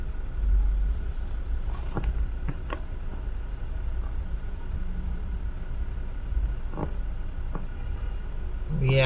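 City bus passing on a road in Scarborough, Toronto, a low rumble of engine and traffic heard from inside a moving car, with faint brake hiss and soft clicks.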